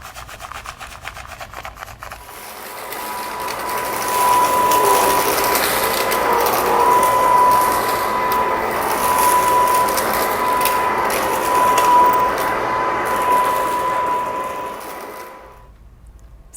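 A Tornado Roam cordless vacuum cleaner starts after a couple of seconds and runs with a loud, steady whirring hum that carries a faint tonal whine, then shuts off near the end.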